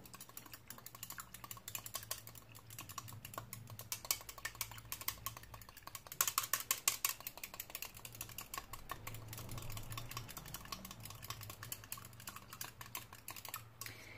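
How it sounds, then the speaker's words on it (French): Rapid whisking of an egg yolk into salted water in a glass, a fast, steady run of small clicking and tapping strokes that continues throughout at moderate loudness, with no talking. "Je viens donc mélanger mon jaune d'œuf avec l'eau."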